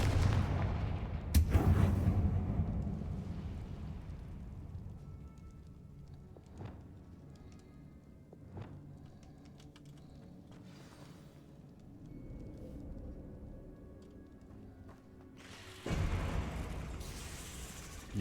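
A Confringo spell explosion in the Hogwarts Legacy video game, a sharp blast near the start followed by a long low rumbling tail and scattered smaller pops, with another loud burst near the end.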